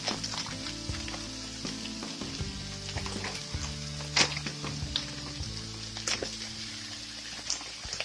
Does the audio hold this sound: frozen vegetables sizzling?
yes